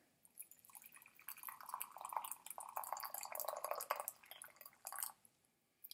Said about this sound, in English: and you put in the hot water.